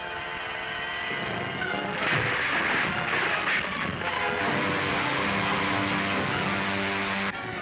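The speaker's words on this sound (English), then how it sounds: "Why, it's one of Ming's ships. They're trying to bomb us." Bombs dropped from a spaceship exploding in a 1940 science fiction serial, a loud sustained roar and rumble with layered tones that holds for several seconds and then cuts off sharply.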